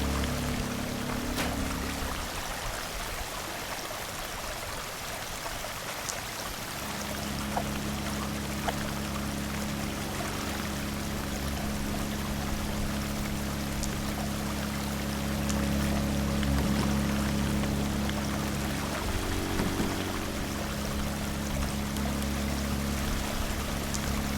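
Water gushes steadily from a broken flood control structure, a continuous loud pouring rush that lasts throughout with a brief lull near the middle.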